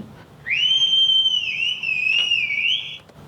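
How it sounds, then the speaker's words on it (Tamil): A single sustained whistle loop cut from a Tamil kuthu song, without the beat: one bright, steady high tone that wavers slightly, held for about two and a half seconds over a faint background, clear and close. "இதில் வந்து எனக்கு பீட் வேணாம், அந்த விசில் மட்டும்தான் எனக்கு வேணும்"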